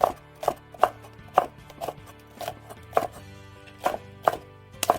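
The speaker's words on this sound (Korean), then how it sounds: "대파는 어슷썰기로 쫑쫑 썰어줍니다." A knife chops green onion diagonally on a cutting board while preparing beef rice cake soup, giving about a dozen sharp, close, evenly spaced knocks in a steady rhythm with no talking.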